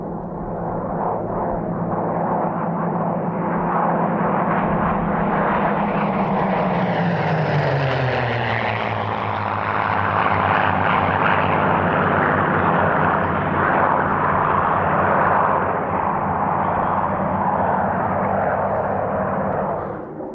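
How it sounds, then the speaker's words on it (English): Spitfire fighters, one Mark 9 and two Griffon-engined Mark 14s, roar past at an airshow display, their loud propeller-engine drone swelling and falling in pitch as they sweep overhead and away, with no talk over it. "Next to display are the later marks of Spitfire. 1 Mark 9, 2 Mark 14s"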